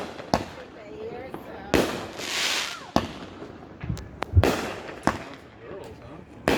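Fireworks bursting over Adams Lake: sharp booming reports at irregular intervals, some followed by crackling and hissing trails, with voices murmuring in between.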